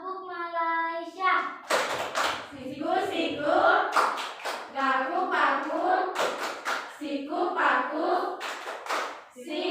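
Children clap in a quick rhythmic pattern during the Tepuk Malaysia clapping chant in a classroom, sharp claps landing between their sung chanting voices, close and lively.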